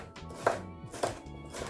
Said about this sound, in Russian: Следом перец недлинной соломкой.